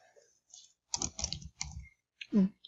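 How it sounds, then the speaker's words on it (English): Bursts of clicking from typing on a computer keyboard, with short pauses between flurries of keystrokes and quiet gaps in between. "I'm just typing in some random information here just for the sake of the video"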